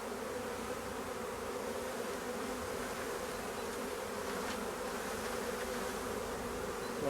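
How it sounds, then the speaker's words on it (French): A large honeybee swarm being gathered into a bucket hums as a dense, continuous buzz that stays loud and even throughout, with no voices. "C'est quand même grand l'essaim."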